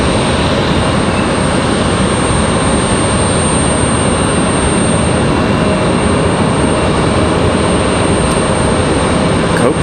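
A Copa Airlines airliner taxis out toward the end of the runway at Raleigh-Durham International on a stormy night: a steady, loud, broadband jet-engine roar that holds constant throughout, with no voices.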